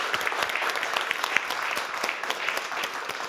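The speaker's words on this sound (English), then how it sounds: "let's give a big round of applause for our panel today" Audience applause for a climate and parenthood panel discussion, a steady, even roar of many clapping hands filling the room without a break.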